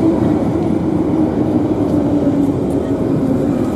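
An automated airport terminal shuttle train pulls in, a steady loud rolling rumble and hum filling the space, with a person talking over it.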